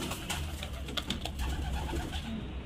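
Cobra Teddy pigeons cooing in a loft in Murshidabad: soft, repeated throaty coos from several birds, close and continuous over a low background hum.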